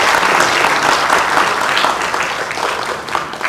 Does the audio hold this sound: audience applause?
yes